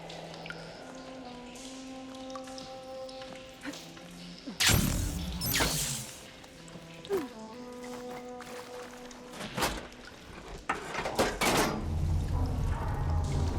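Water flows and gurgles through pipes at a valve in the game Horizon Forbidden West, quiet splashing with a burst of rushing water midway and a low steady hum underneath, no speech.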